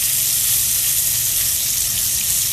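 Bacon-wrapped pineapple searing in a frying pan, giving a dense, even sizzle that stays loud and close for its whole short length, with no pauses and no voices.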